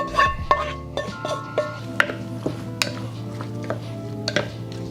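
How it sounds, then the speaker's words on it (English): Beef stew ingredients being stirred in a pot give off clinks and scrapes of a utensil against metal at an uneven rhythm, close and fairly loud over a steady low kitchen hum. "We're gonna get it all stirred up and get it going."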